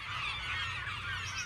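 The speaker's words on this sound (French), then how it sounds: "Le premier, c'était le goéland, ce grand oiseau qu'on retrouve en bord de mer" Seagull call, a loud nasal honking cry repeated over about a second and a half, close and alone without talk.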